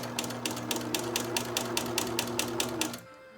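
A sewing machine stitches along the edge of a patch pocket in a steady run of rapid, evenly spaced needle strokes, fairly close and unaccompanied, stopping abruptly near the end.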